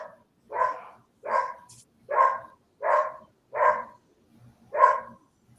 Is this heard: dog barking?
yes